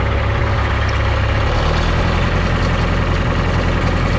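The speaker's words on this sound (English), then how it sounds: "You'll hear the engine tones change." A steady, low rumbling old tractor engine idles close by, unchanging and loud throughout, with no voices.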